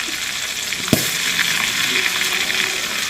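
Fish frying in bubbling oil, a steady, dense crackling sizzle that holds for the whole stretch, with one sharp pop near the start and no voices.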